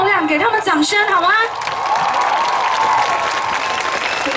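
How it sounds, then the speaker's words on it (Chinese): An outdoor crowd at the Chishang autumn harvest music festival breaks into sustained applause after a woman's brief spoken introduction, the clapping steady and full until the end. "给他们掌声好吗？"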